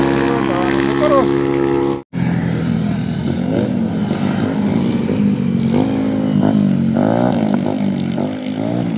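Many motorcycles passing on a road, their engines droning loudly and continuously with rising and falling pitch as they go by, under excited talk.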